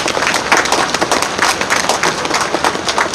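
Audience at a street election rally in Jeju City applauds in a dense, sustained burst of clapping, loud and steady for the whole stretch with a crowd murmur underneath.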